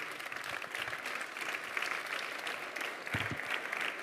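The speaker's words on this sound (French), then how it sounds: "On peut les applaudir s'il vous plaît." A conference audience applauds four speakers, a continuous, fairly distant wash of clapping from the room that holds steady to the end.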